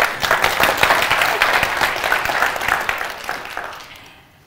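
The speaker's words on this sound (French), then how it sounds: "ça fait plaisir de recevoir déjà des applaudissements sans avoir rien fait" An audience at a business pitch event claps in a full, sustained burst of applause that gradually thins and fades out toward the end.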